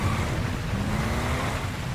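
Tsunami water waves in the GTA 5 video game surge in a continuous broadband wash with a low rumbling roar, loud and unbroken, with no voices.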